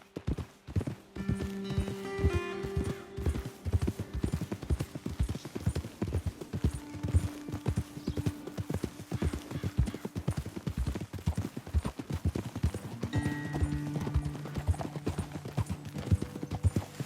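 Horse hooves clip-clop at a steady walking rhythm in the video game Red Dead Redemption 2, with a low hum underneath and no talk.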